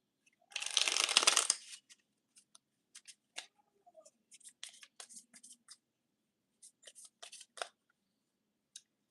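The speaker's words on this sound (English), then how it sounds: "Let's get some more cards on the general energies." Tarot cards being shuffled in a loud riffling burst near the start, followed by scattered soft snaps and slides as individual cards are drawn and laid down, close and alone with no talking.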